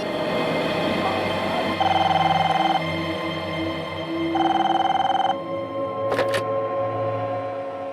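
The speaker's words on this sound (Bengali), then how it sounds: "এখনই রিমাকে একটা ফোন করে দেখি।" A telephone rings in two separate bursts with a pause between them, loud and close, over a steady background hum. No one speaks.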